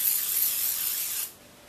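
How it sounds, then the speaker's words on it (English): Cooking oil sprayed from a can onto raw chicken legs, one steady close hiss lasting just over a second before cutting off to quiet room tone. "I'm going to spray with cooking oil."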